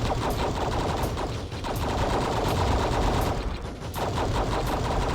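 Quad guns mounted on a four-armed video game character hammer away in sustained automatic fire, a loud, close, rapid rattle with brief dips in intensity, heard alone without speech.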